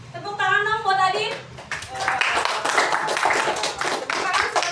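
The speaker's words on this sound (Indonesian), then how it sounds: "Tepuk tangan dong buat Adin." Classmates in a math lesson clap for a student, brisk close applause from a small group that follows a short spoken phrase and continues steadily to the end.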